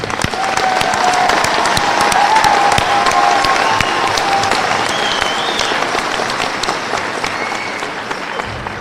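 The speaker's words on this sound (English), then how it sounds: "Can we all have one more round of applause for the class of 2023, please?" A graduation ceremony audience applauds the high school class of 2023 with loud, dense, sustained clapping that fills the hall for the whole stretch.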